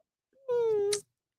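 A single cat meows once, a clear, drawn-out tonal cry lasting about half a second, close and fairly loud, with faint low rumble beneath and quiet before and after.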